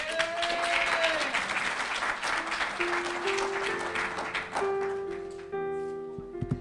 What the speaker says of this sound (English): Let's give these two students another round of applause.